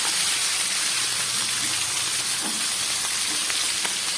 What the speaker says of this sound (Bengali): একটু তাড়াতাড়ি রান্না করার জন্য আমি আলুগুলোকে এই পাশে ভেজে নিচ্ছি।